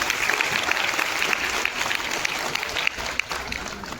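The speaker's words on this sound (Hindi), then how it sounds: "आपकी जोरदार तालियों के लिए।" Dense, loud applause from a large crowd at a Republic Day event, continuous throughout with no pauses.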